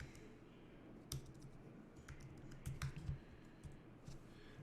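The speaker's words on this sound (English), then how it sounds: "And I'm just going to type ours in here." Light typing on a computer keyboard, faint and close, a quick irregular run of soft key clicks over a quiet background hiss.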